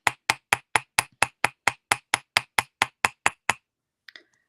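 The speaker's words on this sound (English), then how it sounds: "So I'm going to put mine on the steel block. I'm going to use my nylon hammer." A nylon hammer strikes wire laid on a steel block for work hardening, sixteen sharp, evenly spaced taps at a steady quick rhythm, close and alone, then a brief softer clink after a pause.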